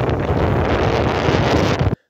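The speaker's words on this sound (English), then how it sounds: "It also started to get quite windy, which means it also got quite cold" Strong gusting wind buffets the microphone outdoors on the Cornish coast on a cold, windy day. The roar is loud and continuous, then cuts off abruptly.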